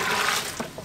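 Water pours into a large cooking pot for degi-style beef mince with peas and potatoes, a brief, steady rushing splash heard alone at close range.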